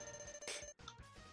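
A telephone rings in a room during a Mega Man X speedrun stream, a steady electronic ring tone that fills the short clip with one brief dip in the middle.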